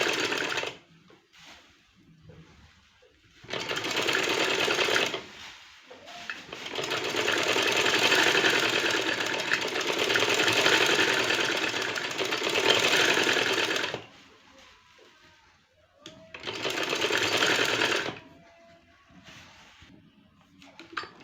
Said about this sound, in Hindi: दोनों साइड हम स्टिचिंग करेंगे। अब दूसरा जो ये वाला साइड है वो भी स्टिचिंग कर लें।